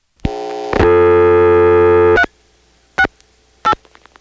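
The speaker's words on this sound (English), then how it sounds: "if we call the Manassas 368 office, normally the register sender will dial 58" Telephone tones in an old step-by-step exchange as a register sender dials into the Manassas 368 office: a long steady multi-tone signal cut off abruptly, then two short clipped tone bursts spaced apart, loud against near silence.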